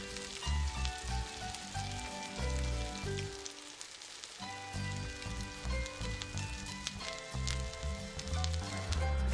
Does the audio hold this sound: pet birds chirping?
no